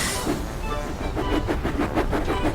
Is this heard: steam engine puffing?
yes